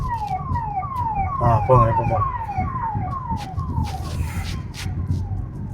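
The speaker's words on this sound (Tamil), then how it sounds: "ஆம்புலன்ஸ் வருது கொஞ்சம் விட்டுருங்க" An ambulance siren wails in repeating rising sweeps as it passes on a road, loud and steady over car and traffic noise, while a driving instructor speaks inside the car.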